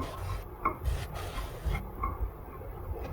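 A spoon scrapes and rubs through green chillies and turmeric powder in a pan, giving a few soft, irregular stirring strokes, faint and close, with no one talking.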